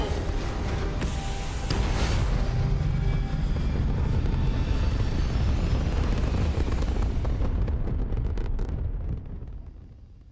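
Spaceship launch in Starfield: a loud, sustained roaring rumble of engine thrust builds and holds for most of the stretch, then tapers off near the end, with no talk over it.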